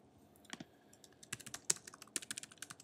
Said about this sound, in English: I'm going to type in the URL for LinkedIn, linkedin.com